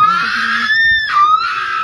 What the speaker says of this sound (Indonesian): Teriakan seperti ini ya bikin orang lain jadi takut juga guys ya.